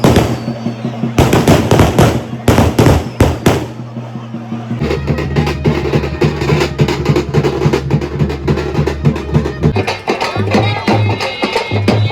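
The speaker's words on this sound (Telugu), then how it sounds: "తొలిల రోజు బాణసంచా కాల్చడం అయితే ఇక్కడ ప్రత్యేకతనే చెప్పాలి" Fireworks burst on the first day of a temple festival, with a rapid crackle of firecrackers and repeated loud bangs, some sharp and near, continuing throughout over a busy crowd backdrop.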